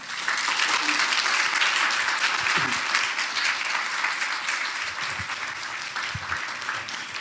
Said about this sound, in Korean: 나오실 때 박수 한번 크게 부탁합니다.